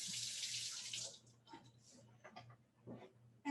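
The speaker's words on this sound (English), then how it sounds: "let me rinse my fingers here" A kitchen tap runs at full flow for about a second as fingers are rinsed under it, then cuts off, leaving faint handling clatter and a low steady hum.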